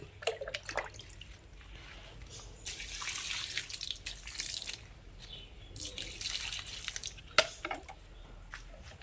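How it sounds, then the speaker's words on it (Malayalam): Water running from a pipe tap, a soft trickle with drips that swells into louder gushing bursts and then falls back, heard alone at close range. "പൈപ്പിൽ വെള്ളം വന്നിട്ടുണ്ട്"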